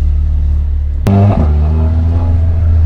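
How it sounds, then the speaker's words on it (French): A Mercedes A45 AMG with a Milltek exhaust idles loudly, then revs up sharply with a rising, growling roar that holds at a higher pitch. "Ah, c'est un moteur assez rageur, quoi."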